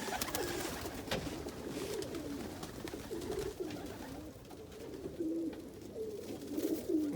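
A young almond homer pigeon coos softly among other birds, low repeated coos rising and falling over a quiet, fairly faint background.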